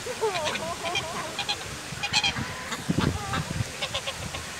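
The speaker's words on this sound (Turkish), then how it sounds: "Ördekler, kazlar beraber burada çok güzel bir ortamda vakit geçiriyorlar." Several geese honk repeatedly at close range in a park grove, overlapping calls mixed with some duck-like quacks and splashy background noise.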